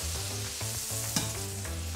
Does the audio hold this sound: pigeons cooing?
no